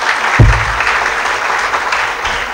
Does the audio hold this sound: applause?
yes